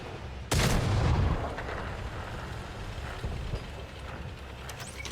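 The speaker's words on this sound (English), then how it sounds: "Artie is shooting at me." Artillery fire in a tank video game: a single loud, close blast erupts, then a long rumbling decay and low battle noise continue underneath.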